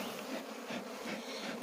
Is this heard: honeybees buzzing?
yes